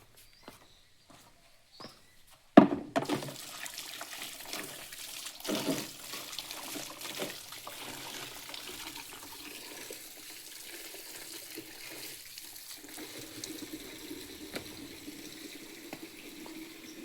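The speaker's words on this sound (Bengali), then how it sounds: "আর এখানে আমরা জল দেবো।" Water poured onto potted plants on a rooftop garden after mustard-cake fertilizer water is prepared; a few faint knocks, then a sudden splash and a steady trickling, gurgling pour for over ten seconds.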